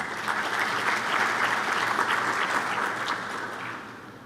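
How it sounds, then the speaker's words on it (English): A conference audience at a science congress applauds in a dense, even roar of clapping that holds steady and then begins to fade at the end. "Can we all give that a round of applause?"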